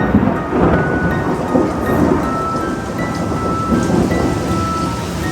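Heavy rain pours steadily during a Central Florida rainy-season thunderstorm, with a dense loud hiss and low rumbling thunder rolling underneath throughout.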